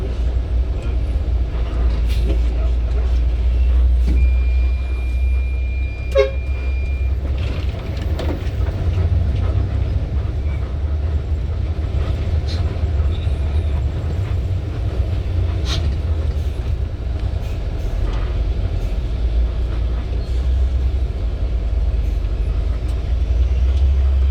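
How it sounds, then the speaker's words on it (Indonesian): A passenger train rumbles past a level crossing steadily with a deep continuous roar, heard from inside a bus waiting in traffic, with engine hum and occasional clatter. "Oh Ijen Express, kereta api ke Malang."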